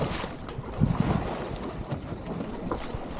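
A small gaff-rigged sailboat runs down the coast in light wind and swell, with steady wind rush, sloshing water and gusts buffeting the microphone up close.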